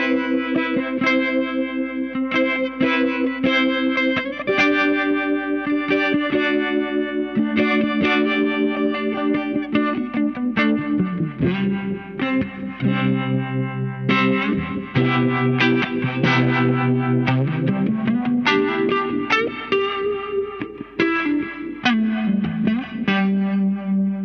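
Electric guitar played through a Colortone Roundhouse tremolo, vibe, reverb and drive pedal: sustained melodic lines with slight grit, a wavering chorus-like shimmer and a reverb tail, playing continuously and fairly loud with no talking.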